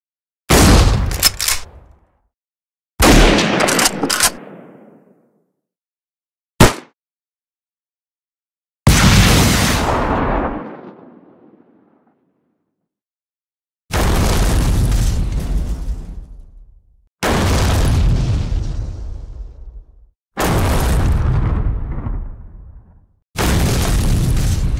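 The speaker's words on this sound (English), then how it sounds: "As for weapons, each one had various layers, highlighting the high, mid, and low frequencies to make the sounds have more action to them." Video game weapon sound effects: a series of loud, separate gunfire bursts and booming explosions, each followed by a rumbling decay. Sharp shots open the sequence and heavier blasts with sustained roars follow, with silent gaps between them and no speech.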